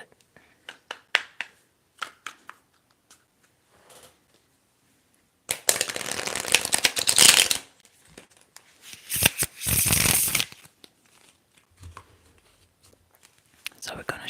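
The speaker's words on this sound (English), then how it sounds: "So we're gonna shuffle, get a card" Tarot cards are shuffled close up in two loud, crisp riffling bursts, with light tapping and handling of the cards before and after.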